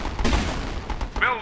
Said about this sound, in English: Fire all batteries.